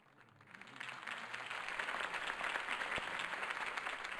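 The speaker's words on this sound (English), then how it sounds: "could have heard that applause" Steady applause from a crowd, building quickly and holding as a dense wash of clapping with no voices on top.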